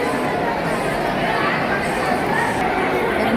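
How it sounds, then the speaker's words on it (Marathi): Dense chatter from a large crowd packed into a three- or four-row queue at the Chakarwadi temple fills the air as a steady, loud, continuous murmur, with no single voice standing out. "इकडं पाठीमध्ये पण लईच गर्दी"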